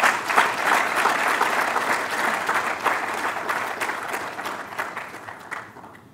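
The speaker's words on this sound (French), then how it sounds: "Je voudrais sincèrement qu'on puisse les applaudir" A crowd applauds with steady clapping during an interview, loud at first and gradually fading away toward the end.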